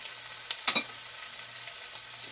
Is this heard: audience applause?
no